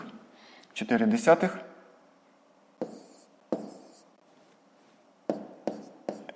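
Numbers are written by hand with a pen on paper during a fifth-grade maths exercise, giving several short, close scratchy strokes separated by pauses, with a brief spoken voice near the start.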